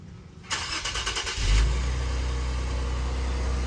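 An Infiniti Q50S with a muffler-delete exhaust starts up loudly nearby, a burst of cranking followed by a deep, raspy idle that holds steady and droning.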